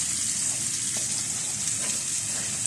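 Garlic sizzles steadily in a hot pan, a continuous close frying hiss with no talking.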